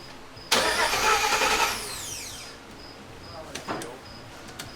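An LS-swapped Scout engine cranks and fires, a loud broadband burst of starter and combustion roar that catches, then drops quickly into a steadier, quieter running note with a few brief revs later.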